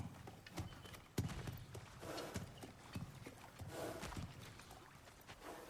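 A kelpie horse in God of War Ragnarok walks with hooves clip-clopping in an uneven steady rhythm, close and moderately soft, over a low ambient game background.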